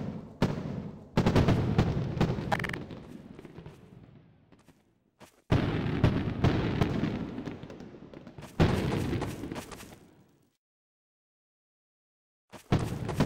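Fireworks burst in a video game's Fourth of July build-server show: several loud, booming explosions with crackling tails, separated by pauses and a stretch of near silence.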